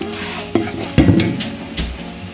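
Onions sauté in a pan for mutton dum biryani, with a steady close sizzle and a few loud scraping stirs of a spatula against the pan.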